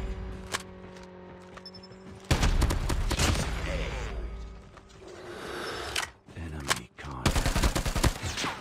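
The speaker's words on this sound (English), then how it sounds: "Someone is shooting at me." Rapid bursts of gunfire in a video game ground war match, with loud automatic volleys crackling near and far, broken by brief lulls and a few single shots.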